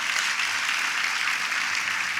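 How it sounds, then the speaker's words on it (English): Steady, dense applause from a university convocation audience, a broad wash of many hands clapping at even loudness for a couple of seconds. "I think it deserves another round of applause."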